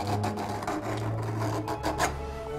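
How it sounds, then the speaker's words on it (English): A custom hand scraper rasps across wooden drawer parts for a bureau, three pieces worked together, giving close, repeated scraping strokes in a quick uneven rhythm with no talking. "now I'm using my custom scraper, and it works quite well"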